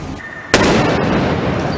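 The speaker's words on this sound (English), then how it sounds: "That was the moment an explosive device was accidentally set off by a bomb squad robot." Quiet hum, then a single sudden loud blast as a bomb squad robot accidentally sets off an explosive device; it rumbles and roars on with lingering noise afterward.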